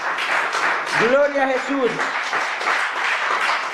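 A congregation claps during a home worship service, steady dense applause throughout while a voice rises over it with a short sung or shouted praise midway.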